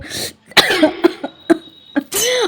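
A woman coughs nearby in a quiet room, a short series of sharp, uneven coughs spaced across a couple of seconds, with a throaty rasp at the end.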